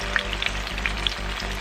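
A Jamaican saltfish fritter sizzles loudly in frying oil as it is flipped, the dense crackle broken by several soft pops and spatters over a low steady hum.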